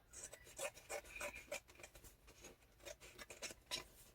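Cardboard being trimmed from a journal cover gives a quiet, close run of rasping cuts and rubs in an uneven rhythm, with no voices.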